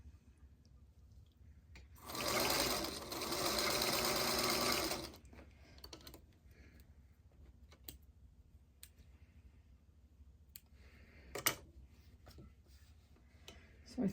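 A sewing machine stitches a small calico quilt block in one steady burst of about three seconds, then scattered clicks and light handling noises follow in a quiet room.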